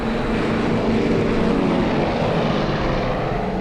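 Propeller airliner carrying ten passengers taking off, a loud, continuous engine roar and droning hum that holds steady without a break.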